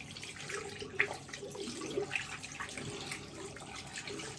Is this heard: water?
yes